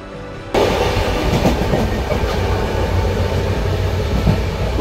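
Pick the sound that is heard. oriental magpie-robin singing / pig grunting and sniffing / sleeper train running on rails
sleeper train running on rails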